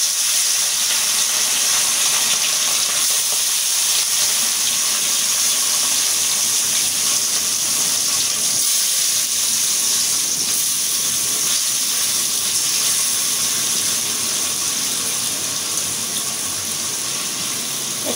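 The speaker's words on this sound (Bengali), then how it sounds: "এটা আমি ভাজিয়ে নেব। মাছ ভাজে হয়ে গেছে" Puti fish coated in turmeric, chili powder and salt fries in hot oil, giving a loud, steady, continuous sizzle and hiss that runs unbroken throughout with no talking.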